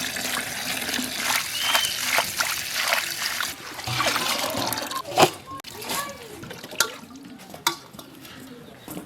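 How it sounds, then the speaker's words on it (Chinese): Bitter greens being washed by hand in a basin of water, sloshing and splashing with trickles and drips, close by, with a few louder splashes toward the end. "把苦菜往进洗一下。"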